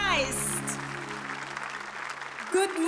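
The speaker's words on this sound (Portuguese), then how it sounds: "Vamos aplaudir a Jesus Cristo." Applause from a church congregation during a Sunday sermon, a steady wash of clapping over a sustained musical tone for nearly three seconds, with a voice speaking as it ends.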